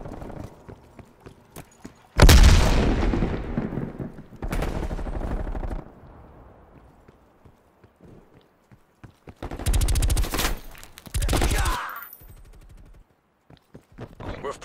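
Grenade blast and bursts of automatic gunfire in Black Ops Cold War on the Slums map: a loud explosion, then separate rapid volleys with quiet gaps and faint footsteps between them.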